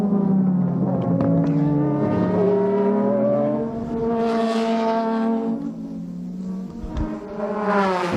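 Super GT race cars, a Nissan and the Epson NSX, racing close at SUGO in 2006, engines droning loud and steady with rising and falling revving pitch as they run together, heard without clear talk.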